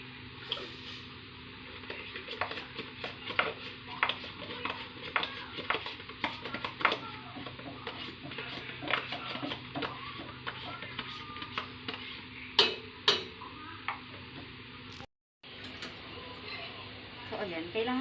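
Cream and condensed milk boiling in a pot while a spoon stirs, giving repeated scraping clicks and soft liquid ticks against the metal, scattered and irregular over a faint bubbling bed, with someone talking over it.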